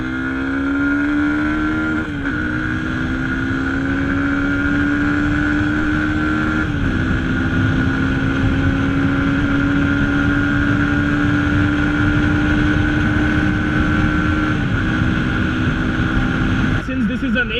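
Yamaha FZ25 naked motorcycle ridden on a highway carrying a pillion, its engine droning steadily close up with a few brief gear-change dips, wind roar filling the background throughout.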